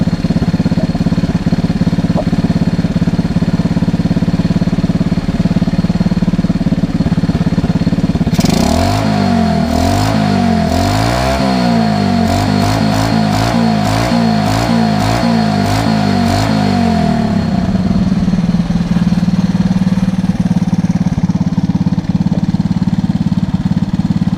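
A smoky Honda ATC 110 three-wheeler trike engine runs loud and close, idling steadily, then revs repeatedly in rising and falling bursts for several seconds before settling back to idle.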